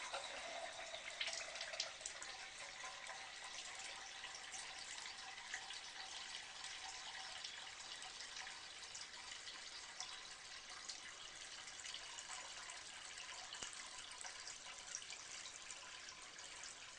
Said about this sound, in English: go ahead and let it fill up to the 1 liter mark or thereabouts